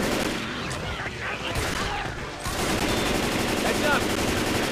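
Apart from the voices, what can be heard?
gunfire from video game Left 4 Dead 2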